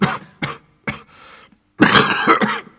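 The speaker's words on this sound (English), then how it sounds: "Suddenly the miner began to cough violently" Harsh, heavy coughing from a coal miner in uneven bursts, a few separate hacks then a longer wheezing fit, loud and close with no talk.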